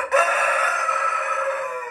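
An Australorp rooster imported from Serbia crows once, a loud, sustained and close call that holds steady for almost two seconds.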